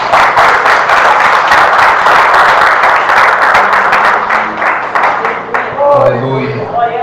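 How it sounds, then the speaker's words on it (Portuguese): A church congregation claps together during a Portuguese-language sermon, dense steady applause filling the room for several seconds before thinning out near the end as a voice returns. "Você pode aplaudir Jesus?"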